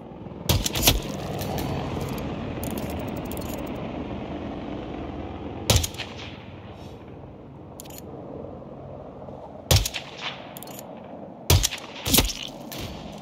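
Sniper rifle shots in the stealth game Hitman 2 at a Siberian prison, sharp loud cracks heard about five times at irregular intervals over a steady low ambient hum.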